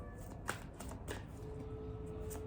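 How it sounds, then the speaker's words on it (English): Large tarot cards are shuffled by hand in quick, faint riffling bursts with soft slaps, repeated irregularly over a low room hum. "I'm trying my best to shuffle"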